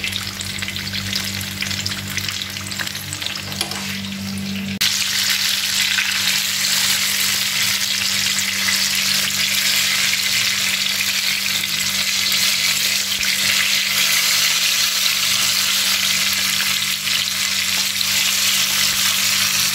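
Onion and chilli pakoras deep fry in hot oil with a loud, continuous bubbling sizzle that swells after the first few seconds and stays steady.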